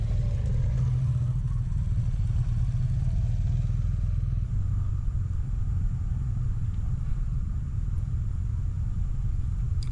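A Kawasaki Vulcan S motorcycle (2023) rumbles steadily through a cone weave during a riding lesson, its engine a constant low drone close by, with no talk.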